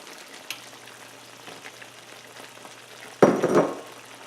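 Beaten eggs drop into a hot pan with sausage stir-fry, setting off a sudden burst of loud sizzling that crackles for about half a second after a quiet stretch of faint frying.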